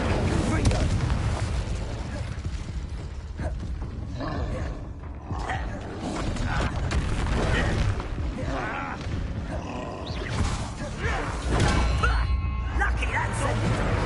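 A fire spell cast in the Hogwarts Legacy video game bursts out as a loud, roaring blast with rumbling, explosive crackle, sustained over about fourteen seconds beneath game voices and battle noise.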